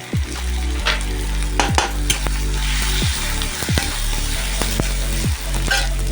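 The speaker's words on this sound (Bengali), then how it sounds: "তো এদিকে পেঁয়াজ, রসুন আর টমেটো ভাজা হয়ে গেছে। তো এর মধ্যে এখন লঙ্কা গুঁড়ো, হলুদ গুঁড়ো দিয়ে দেবো।" Onion, garlic and tomato fry in a pan as chili and turmeric powder go in, giving a loud, steady sizzle punctuated by several sharp stirring knocks and scrapes throughout.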